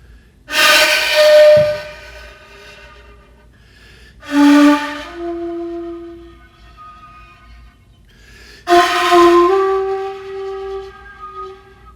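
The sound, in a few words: breathy wind sound on shakuhachi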